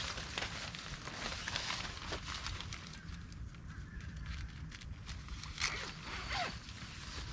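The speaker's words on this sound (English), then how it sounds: "And it zips, and there's also some Velcro to help it stay secured." Zipper on the flap of a Walmart Ozark Trail SUV tent being pulled closed, a steady close scratchy rasp running several seconds with light rustling of tent fabric.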